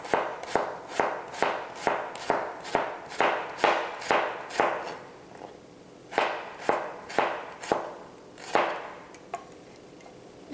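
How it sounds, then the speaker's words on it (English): Knife thinly slicing an ingredient on a cutting board: a steady run of about twenty crisp chops in quick even rhythm, close and clear, with a brief pause midway before slower cuts resume. "I'm gonna slice it into a really thin slice"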